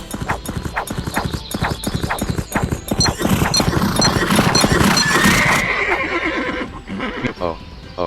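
Hooves clip-clop in a quick galloping rhythm in a video game, joined midway by a loud horse neigh and whinny, with a voice talking over it.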